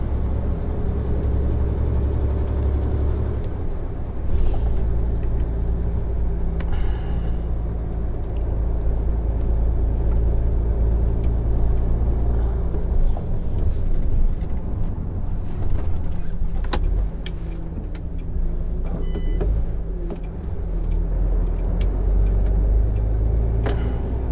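Heavy truck driving at night at 2 a.m., a steady low engine rumble and road drone filling the cab continuously with no talk, occasional small clicks and shifts over the constant hum.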